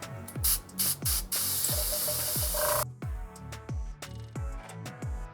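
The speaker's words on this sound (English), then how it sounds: "And then you're going to spray perpendicular straight up and down." Steady hissing spray of an airbrush onto French macaron shells, loud and close, with brief pauses and a shift in tone partway through, plus repeated low thumping pulses underneath.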